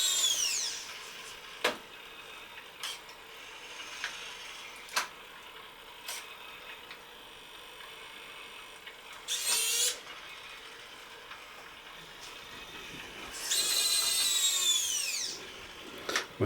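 Whirring servo motors of a B9 robot arm run in two short bursts, a brief one and then a longer rising whine, amid faint clicks and tapping in a quiet room.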